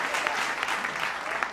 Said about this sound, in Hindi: थोड़ी तालियां उठाओ